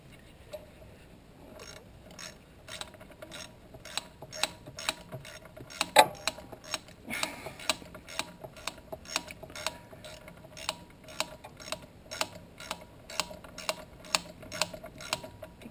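Bolt being run down a few threads by hand during a fuel pump install on a Honda GL1200 motorcycle, a steady series of close, sharp ratcheting clicks in regular rhythm, fairly quiet and unaccompanied by talk.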